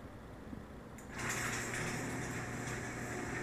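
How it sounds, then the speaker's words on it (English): A garage door opener, triggered by voice through an Alexa and Raspberry Pi setup, starts up about a second in and runs as a steady whirring rumble for the rest of the clip, with no voices. "And the garage door is closing."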